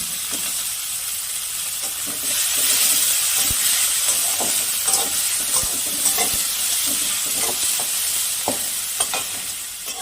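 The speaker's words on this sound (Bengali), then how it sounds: "আমার পেঁয়াজটা হালকা লাল করে ভাজা হয়ে গেছে" Chopped onions frying in a little oil in a pan, the same oil used earlier to fry fish, give a steady, loud sizzle and hiss with soft stirring scrapes throughout, and no talking.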